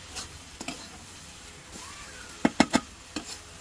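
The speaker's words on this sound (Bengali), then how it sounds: "আনুমানিক 4-5 মিনিট ভাজা ভাজা করতে হবে না?" Vorta mixture frying in a pan gives a low background sizzle, broken by a few sharp clanks and scrapes of stirring, with a quick cluster of bright clicks near the end.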